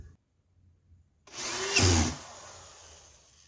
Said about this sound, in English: Now I got to change drill bits and